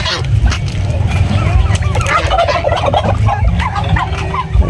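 Turkeys gobble repeatedly up close, a busy overlapping chorus of rattling calls with a low rumble of background noise.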